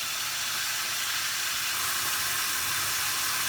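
A steak being laid into a hot pan gives off a steady, bright sizzling hiss that holds evenly for a few seconds with no talking.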